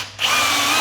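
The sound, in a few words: drill driving screws into a roller blind bracket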